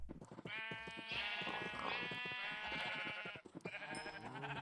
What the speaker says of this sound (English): When did I get a black sheep?